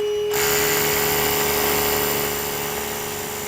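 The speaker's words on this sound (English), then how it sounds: "I'm now going to drill a 3/4 inch diameter to a depth of 2 inches" A power drill bores a 3/4 inch hole, 2 inches deep, into a concrete floor slab, with a steady high whine and grinding that runs loud and unbroken after a sudden start.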